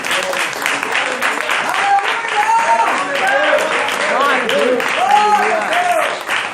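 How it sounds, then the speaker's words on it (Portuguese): Church congregation giving a round of applause, sustained loud clapping mixed with many voices shouting and praising over it. "Dê uma salva de palmas ao Senhor."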